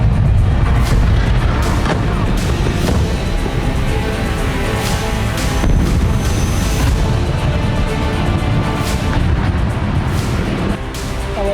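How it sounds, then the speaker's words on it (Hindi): Explosions from Israeli strikes on Iranian cities, heard as a dense run of loud booms and sharp bursts repeating irregularly over continuous heavy rumble, with no clear talk. "दिखाते हैं कि इजरायली हमलों से कैसे ईरान के कई शहर दहल गए"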